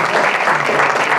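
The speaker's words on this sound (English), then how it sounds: "would you please give her a hand clap?" A brief burst of audience clapping, loud and close, fills the moment after a speaker finishes a Black Panther story at an art and activism event.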